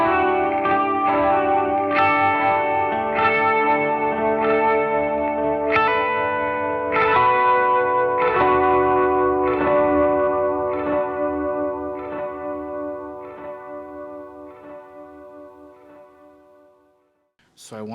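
Electric guitar played through an OBNE Black Fountain V4 oil-can delay pedal, notes piling into dense, modulated repeats that swell and slowly fade out, loud and close, with no talking.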